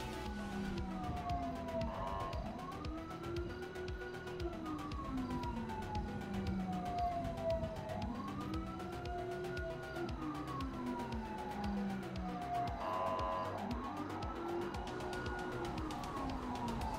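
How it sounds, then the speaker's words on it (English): Police sirens in a roleplay police video game wail continuously, rising and falling in repeated sweeping cycles over a steady engine-like rumble, loud and close throughout with no talking. "Sirens"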